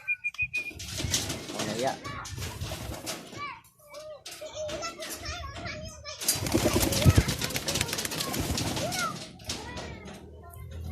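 Young racing pigeons flap and coo around a loft trap outdoors, with bursts of wingbeats and rustling over busy background chatter, children's voices and other birds nearby.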